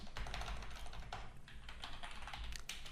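Rapid typing on a computer keyboard, steady clicking keystrokes close up with no one speaking.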